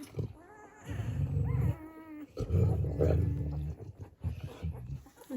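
Six-day-old Dalmatian puppies whimpering and squeaking in short high whines, close by and fairly quiet, with a person talking softly over them.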